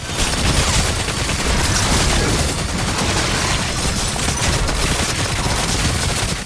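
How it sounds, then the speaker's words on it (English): The Ravager weapon fires in the game DOOM: The Dark Ages, a dense, loud and continuous barrage of rapid gunfire blasts with booming impacts, sustained without a break and with no voices. "It is the Ravager, and no other weapon surpasses its glory in the Dark Ages"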